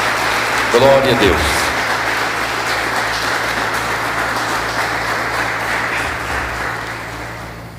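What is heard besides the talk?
applause in a church meeting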